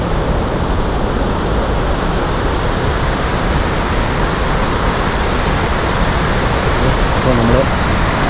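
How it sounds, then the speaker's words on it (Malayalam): A waterfall at a resort in Munnar roars as a steady, broadband rush of falling water, loud and unbroken from start to finish. "അപ്പോൾ നമ്മൾ ആ ഒരു വെള്ളച്ചാട്ടം നമുക്ക് ഇവിടെ നിന്ന് കണ്ടു തുടങ്ങി"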